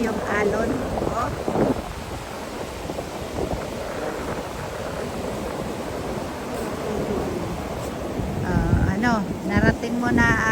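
Sea waves break on a tropical beach in a steady broadband wash, with wind buffeting the microphone and people talking nearby toward the end.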